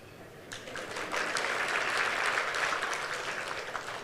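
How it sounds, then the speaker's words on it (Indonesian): A church congregation breaks into applause that swells quickly after a brief pause and holds as a steady, moderately distant clapping, with no speech over it. "Saya mau tanya, kenapa saudara tepuk tangan?"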